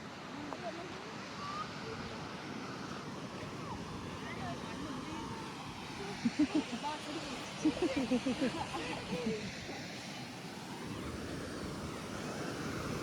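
Sea waves roll onto the beach at Tiruchendur in a steady, low wash of surf, mixed with wind noise and a few faint, brief bumps in the middle.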